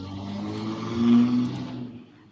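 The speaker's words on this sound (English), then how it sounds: "some guy decided to start revving their engine" A truck engine revs outside a window, a low muffled rumble that swells to a brief peak mid-clip and then fades, heard alone and at a distance.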